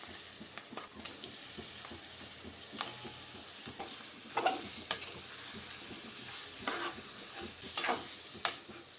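Mutton for curry being stirred and fried in a pan, a low hissing sizzle under scattered scraping strokes that grow louder and sharper midway, close and fairly quiet with no talk.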